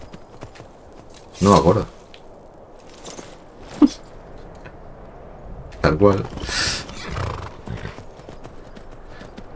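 Horse hooves clop in bursts with a whinny in the video game Skyrim, close and fairly loud, while someone talks over them at intervals.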